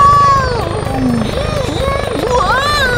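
A large firefighting helicopter whines with a steady, loud engine and rotor drone, its pitch sweeping up and down over about three seconds, with an excited voice briefly exclaiming over it.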